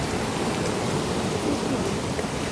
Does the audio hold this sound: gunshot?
no